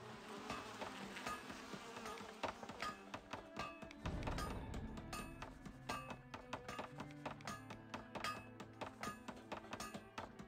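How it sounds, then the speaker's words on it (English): Bees buzzing in the Farthest Frontier town-building game, a steady insect drone with many scattered taps and clicks of game effects layered over it, moderately close and continuous, no talk. "these bees are just whipping"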